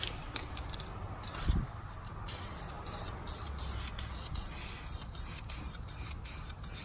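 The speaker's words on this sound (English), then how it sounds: "so now we're just gonna give this caliper here a little fresh coat of paint." VHT spray paint hisses from an aerosol can onto a brake caliper in short bursts with brief gaps between them, close up and steady, with no voices.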